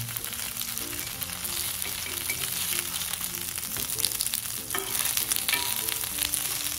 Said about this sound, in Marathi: अशा पलटी करायच्या आणि छान लाल होऊन द्यायच्या। छान भाजल्या ना का लय मस्त छान लागतात, त्याच्या खरपूस होतात।